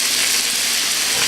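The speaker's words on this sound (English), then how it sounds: "I'm going to start browning some of my meat." Beef browning in a pot for stew gives a loud, dense, even hiss of sizzling fat, close and unbroken for a brief moment with no other sounds.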